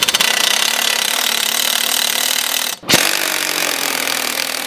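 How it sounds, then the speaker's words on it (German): A pneumatic impact wrench works on the exhaust manifold bolts of a BMW E38 735i, a loud, steady, close hammering whir that cuts out for a split second midway before running on. "Schlagschrauber her, Luftdruck, das Ding hat ordentlich Power."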